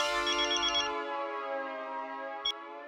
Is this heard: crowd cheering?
no